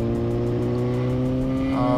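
Smooth, steady engine hum from the car while driving in traffic, a constant low drone with a slight rise in pitch near the end and no talking.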